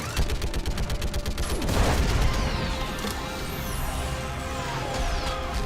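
Heavy sustained gunfire in Mass Effect 3 aimed at a live Reaper, a dense rattling fusillade of shots with booming impacts, loud and continuous throughout with no talk over it.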